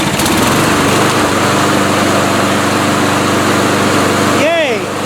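A lawn mower engine kicks over and settles into a loud, steady running drone close to the microphone, its pitch holding even before a voice breaks in at the very end.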